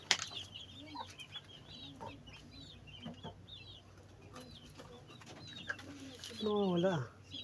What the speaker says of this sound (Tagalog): hanapin natin ng champion na manok